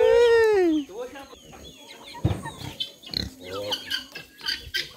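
Farmyard pigs, plump and well kept, with chickens: a loud, drawn-out pig squeal comes first, then scattered hen clucks and rustling nearby.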